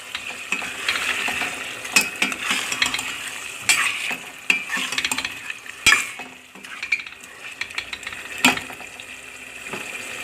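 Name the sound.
large-cut potatoes added to chicken curry, stirred and frying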